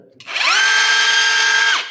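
A cordless 128V rotary hammer drill whirs up to a high, steady whine, holds for over a second, then slows down as it is released; loud and close.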